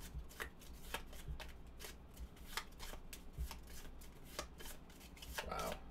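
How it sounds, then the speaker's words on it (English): Board game cards for a Buffy the Vampire Slayer game are shuffled in a steady run of soft riffling flicks and taps, close and moderately loud over a quiet room, with no talking. "we're going to just basically do a little shuffle."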